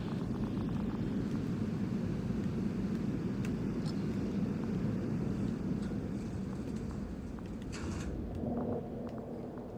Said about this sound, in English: I'm climbing onto the hovering transporter.